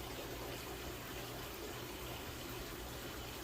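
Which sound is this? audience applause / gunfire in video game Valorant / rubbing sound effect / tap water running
tap water running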